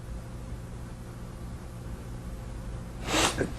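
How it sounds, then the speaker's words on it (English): A single short sneeze bursts out near the end of a quiet stretch of faint background hiss in a room. "you sneezed"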